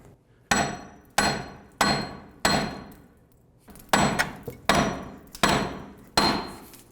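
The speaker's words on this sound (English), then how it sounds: "Now I'm just going to use a hammer and hammer the wheel bearing back and forth" Heavy metal hammer blows on a Nissan Murano rear wheel bearing being knocked loose land one at a time at a steady pace, about nine sharp ringing strikes up close, each fading before the next.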